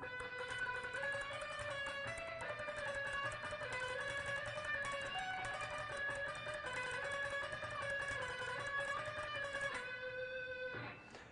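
Fast double-picked electric guitar licks played high on the neck, a steady run of bright sustained notes shifting pitch throughout, loud and alone with no talking.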